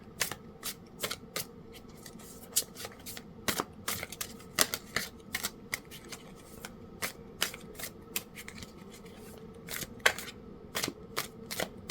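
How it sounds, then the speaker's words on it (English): A tarot deck is shuffled and cards are pulled from it, giving a steady run of crisp, close card snaps and riffles that repeat quickly for several seconds with no voice. "I'm going to go ahead and pull another card"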